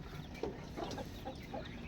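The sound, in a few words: chicken clucking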